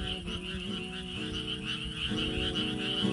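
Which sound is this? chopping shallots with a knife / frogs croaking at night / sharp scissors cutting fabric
frogs croaking at night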